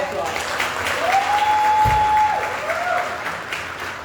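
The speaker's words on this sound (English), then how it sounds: "Please give her a round of applause." Audience at a Class of 2025 commencement ceremony clapping steadily for the master of ceremonies, a full sustained round of applause with a faint whistle-like tone riding on top.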